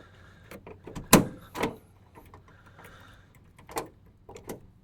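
Door handle and lock on a 1997 Chevy Astro cargo van with a sticky handle: a sharp mechanical clack, followed by a few scattered, fainter latch clicks and rattles, close up and without speech.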